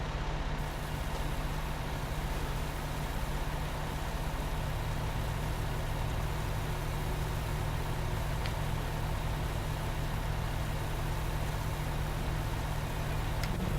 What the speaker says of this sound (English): Turn the engine off on that.